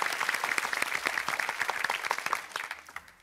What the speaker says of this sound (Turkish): Neşeli neşeli de alkışladı kendisini.